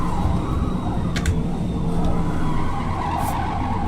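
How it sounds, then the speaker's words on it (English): Rear tires chirp and skid on a race car in Forza Motorsport, a continuous loud engine roar with brief squeal bursts layered over it. "Those rear tires chirping."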